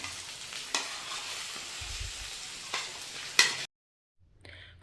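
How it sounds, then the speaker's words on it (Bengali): Fried cauliflower and potatoes being cooked down with masala in a pan, a close crackling sizzle with several sharp spatula scrapes, then a sudden cut to near silence. "ফুলকপি আর আলুগুলোকে মশলাটার সাথে আরেকটু ভালো করে কষে নেব।"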